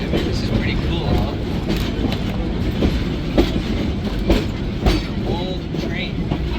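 Old narrow-gauge steam train of the Yosemite Mountain Sugar Pine Railroad running on its tracks: a steady close rumble of wheels with irregular clicks and clanks throughout.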